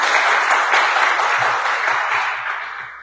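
A church congregation at a French and English bilingual Sunday service bursts into loud, dense applause that holds strong and then slowly tapers off over a few seconds.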